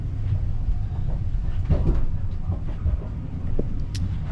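Inside a moving, nearly empty passenger train carriage: a constant low rumble with faint rattles and knocks, plus an occasional light clatter, and no talking.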